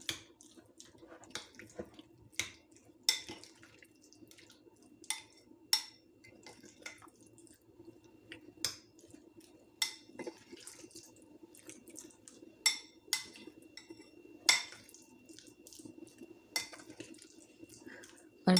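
Marinated chicken cubes for Mediterranean kebabs are tossed and mixed in a bowl, giving quiet, intermittent clinks and wet knocks that repeat roughly every second over a faint background.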